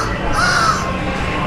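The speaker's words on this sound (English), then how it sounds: "Sounds like a crow up there." A crow caws overhead in an outdoor woodworkers' area at Disneyland, a single harsh drawn-out call heard at moderate distance over steady background crowd noise.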